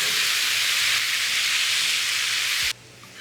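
Loud, steady sizzling hiss of fajita vegetables frying in a pan on high heat, continuous for a few seconds before cutting off abruptly.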